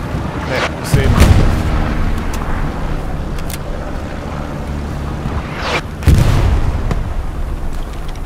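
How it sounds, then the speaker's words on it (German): Artillery shells land in Hell Let Loose during a German counterattack at Sainte Marie Du Mont: two heavy, booming blasts about five seconds apart, each with a loud crack and a rumbling tail, over a constant battlefield roar. "Unsere Arti schießt gerade. Unsere Arti schießt rein"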